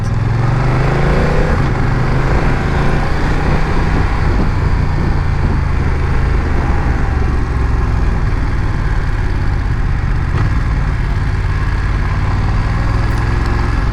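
A BMW F900 XR motorcycle rolls along at low speed, its engine a constant, loud, close low drone with wind noise and no notable revving.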